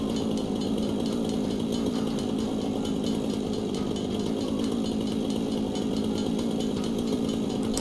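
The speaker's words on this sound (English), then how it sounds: "With my chainsaw in the background, chugging away" A chainsaw drones on steadily in the video game Satisfactory, a dense buzzing motor roar that holds at an even level for the whole stretch with no talk over it.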